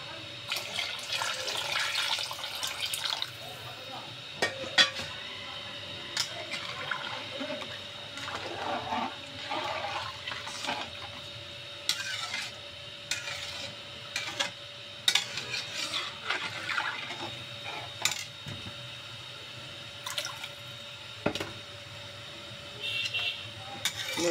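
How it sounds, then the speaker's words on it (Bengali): More water goes into a pot of fried rice and lentils for khichuri: soft, intermittent pouring and sloshing, broken by scattered clinks of a spoon against the pot, fairly quiet and close. "আরও পানি দিয়ে দেবো।"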